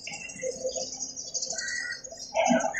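Pigeons gathered at a badminton court give soft calls and higher chirps in scattered bursts. The sounds are fairly faint and open-air, with a louder call near the end.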